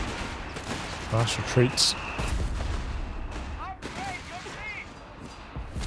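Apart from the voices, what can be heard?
machine gun fire in Company of Heroes 3 video game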